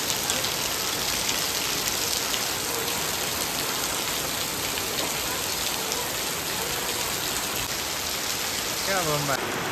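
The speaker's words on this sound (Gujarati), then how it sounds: "ભૂક્કા કાઢે એવો વરસાદ ચાલુ થઈ ગયો." Heavy downpour in a village just after sowing, a dense, steady roar of rain pouring down close by for the whole stretch, with brief faint tonal sounds near the end.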